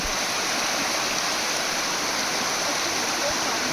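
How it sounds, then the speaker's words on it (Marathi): Water of the scenic Maraleshwar waterfall rushes and gurgles in a steady, loud broadband roar that holds continuously without pause. "असा हा निसर्गरम्य धबधबा, खळखळणारं पाणी"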